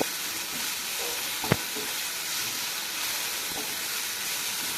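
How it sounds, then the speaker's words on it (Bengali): Drumstick (moringa) greens and fried potatoes stirred in a hot pan, giving a steady close sizzle with a few sharp scraping knocks of the spatula, no talking. "আলুর সঙ্গে শাকে খুব সুন্দর করে আমি মিক্সড করে এইভাবে আমি নাড়াচাড়া করে নেব"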